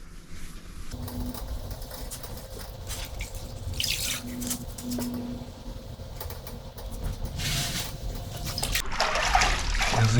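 A wet microfiber finishing sponge washes fresh grout joints with a little water, giving a steady soft trickling and wiping wash that builds slightly louder toward the end.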